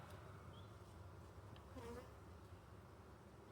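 Bees buzz steadily in a soft, continuous drone during a hive inspection, with a few louder passes drifting close, and no one talking.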